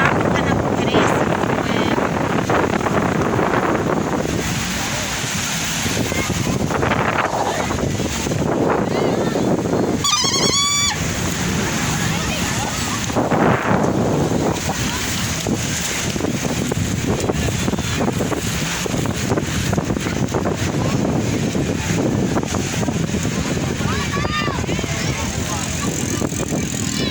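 Steady wind and sea wash at Casablanca beach in Port Said, a broad constant roar buffeting the microphone throughout, with voices talking faintly underneath.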